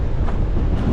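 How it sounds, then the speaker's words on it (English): Strong coastal wind at Rialto Beach buffets the microphone in a loud, continuous low roar with gusty surges, drowning out any other surroundings. "It's so windy."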